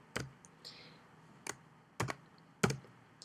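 Keystrokes on a computer keyboard while a formula is entered in Excel: four or five separate clicks at an irregular pace, close and fairly soft, with no voices.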